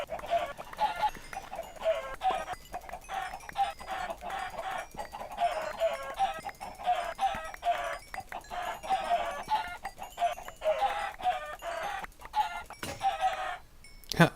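Video game chickens cluck and squawk continuously in a busy, repetitive chatter, fairly faint and steady, with a couple of sharp clicks near the end.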